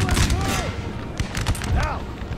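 Musket volleys crackle in a Napoleonic strategy video game set in the 1815 campaign, several rolling bursts of gunfire with booming shots close together, under a voice.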